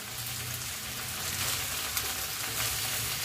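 Chicken barbecue cooking in a pan, a steady close hiss and sizzle of frying meat with a faint tap or stir near the middle, continuous and moderately loud, no talk.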